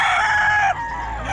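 An SBR gamefowl rooster crows loud and close in one sustained call that drops in pitch partway through and holds steady to the end, with no talking.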